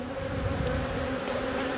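Honey bees from a small nucleus colony buzz on the brood frames of the hive, a dense steady hum that is close and fills the clip without pause.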